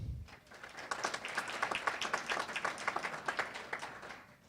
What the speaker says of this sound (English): maybe we could hold the applause